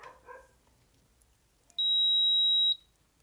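An induction cooktop gives one long, steady electronic beep right after power is connected, loud and clean for about a second, following a few faint clicks and handling sounds.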